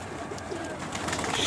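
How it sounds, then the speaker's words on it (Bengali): A female Giribaj pigeon coos softly in a steady, low murmur, close by, with no talk over it. "গিরিবাজ মাদি একটা কবুতর"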